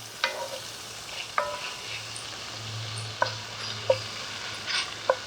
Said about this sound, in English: Well, that's sizzling nicely, Joe.